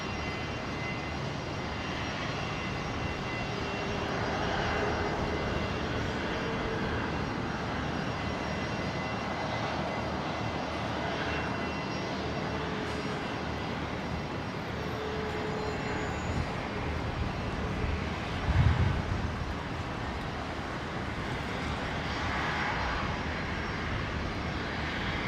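Jetstar airliner engines at Brisbane International Airport, a steady broad roar that holds at a constant level throughout, distant rather than close, with no voices.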